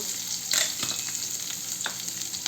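Chopped onion and garlic sizzle and fry in a pan, a steady close hiss with a few stirring scrapes.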